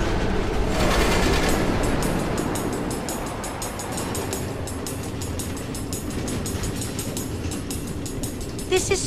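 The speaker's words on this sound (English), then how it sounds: "Automated train tracks running all through the Nether, connecting all the different Order members?" Automated minecart train tracks running through the Nether in Minecraft: Story Mode, a loud continuous rolling rumble with rapid rhythmic clattering throughout, steady and close, with faint speech under it.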